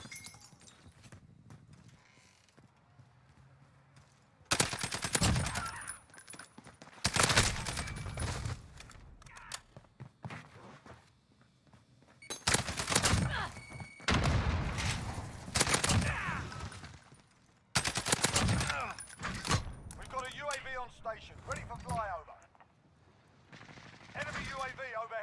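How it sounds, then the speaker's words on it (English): Light machine gun fire in a shooter game erupts in several loud, rapid bursts separated by short lulls, with voices talking in between. "He's gonna just shred me with that LMG."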